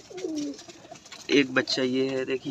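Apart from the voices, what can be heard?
pigeon cooing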